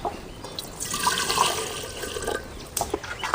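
Half a tumbler of water is poured for cooking, a short splashing, trickling pour with some faint drips toward the end.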